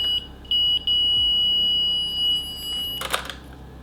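A Polaroid Spectra instant camera's self-timer beeps in short, evenly spaced tones, then gives a faster burst near the end, close and clear over faint room hiss.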